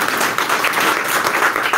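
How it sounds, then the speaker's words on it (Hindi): Loud, dense audience applause fills a seminar hall in Ahmedabad, steady and continuous across the whole short stretch with no pauses. "इनके लिए जोरदार तालियां हो जाए प्लीज"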